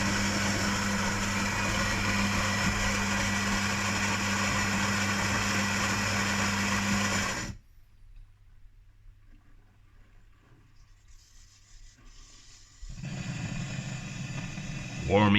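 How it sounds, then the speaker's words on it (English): A Philips LatteGo coffee machine steams milk for a latte macchiato with a loud, steady buzzing whir that cuts off abruptly, then faint quiet before a second burst of machine noise starts near the end. "it needs to boil the steam, prepare the steam, and put it through this milk container"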